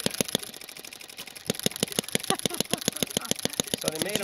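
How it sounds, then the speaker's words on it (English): A small homemade engine with a flywheel and a little brazed muffler runs close by, firing in sharp regular pops that speed up slightly and grow louder partway through. "You're seeing the motor."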